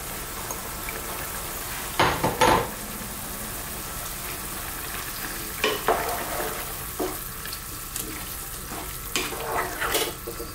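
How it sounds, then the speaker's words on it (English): Thin vermicelli rice noodles and vegetables sizzle in a hot pan under a steady hiss, with several sharp scraping and stirring bursts spaced through the clip. "Now we're going to drop in our noodles."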